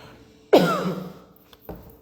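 During a prayer service, a single close, rasping throat clear bursts out sharply, followed a moment later by a smaller, quieter clearing sound.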